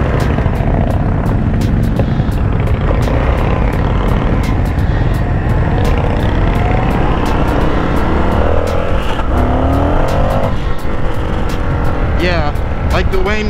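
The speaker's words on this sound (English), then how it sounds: "Definitely downshifts are a little intense because I'm not used to the bike." 2021 Indian FTR-R Carbon motorcycle on the road, its engine droning under heavy wind rush, with revs rising and dropping sharply as it downshifts near the end.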